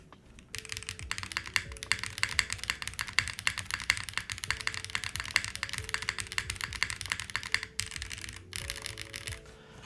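Fast, continuous typing on a Gem80 mechanical keyboard with a silicone-dampened bottom, a dense close stream of soft-leaning keystrokes lasting several seconds before slowing near the end.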